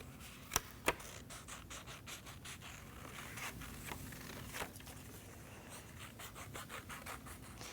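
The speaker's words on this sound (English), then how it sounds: "while we're cutting our paper" Scissors cut paper in a church setting, a long run of soft rapid snips and rubbing strokes with two sharper clicks near the start, faint and close with no talk.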